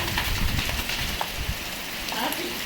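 Rain falls steadily in an outdoor spot where a Labrador is being bathed, a dense patter of drops hitting surfaces with occasional louder splashes, close and continuous without a break.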